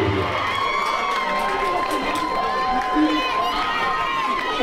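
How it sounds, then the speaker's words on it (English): Fight-night crowd at a boxing event cheering and shouting in a continuous loud roar, with an announcer's voice partly audible over the noise. "how about a massive round of applause for his fabulous opponent, Justice"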